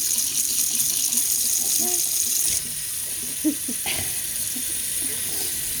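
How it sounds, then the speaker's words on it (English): Hot tap water pours steadily into a big pot with a constant hiss, and a few faint clinks and soft movements come through. "in my big pot, I'm going to get some hot water"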